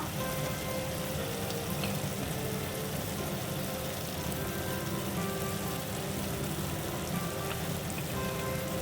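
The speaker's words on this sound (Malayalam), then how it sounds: "മീഡിയം ഫ്ലെയിമിലിട്ടാണ് നമ്മളിത് വഴറ്റിയെടുക്കുന്നത്" Ingredients sautéing in a pan over a medium flame for an egg curry, a continuous even sizzle and crackle of frying that stays steady throughout with no talking.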